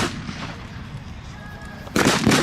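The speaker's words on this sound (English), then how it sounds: "The Germans haven't finished with the mortars yet either." A mortar round goes off at a WWII battle reenactment between German and Soviet forces: a single loud, sharp blast cuts in near the end after quiet outdoor ambience with faint distant rumble.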